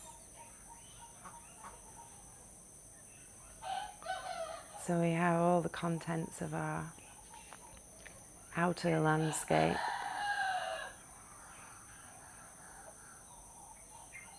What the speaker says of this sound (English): we have our chorus of morning cockerels and chickens and ducks and birds.